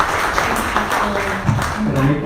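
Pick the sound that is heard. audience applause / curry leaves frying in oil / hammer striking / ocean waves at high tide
audience applause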